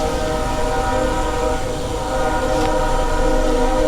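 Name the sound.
passing train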